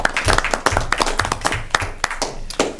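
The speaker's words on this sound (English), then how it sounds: "The applause goes to all of you." Small gathering at a school committee meeting clapping for a retiree, a few distinct sharp claps rather than a dense roar, fairly near, lasting a few seconds.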